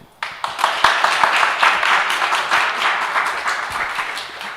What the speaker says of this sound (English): So clap if you think this is worth pursuing.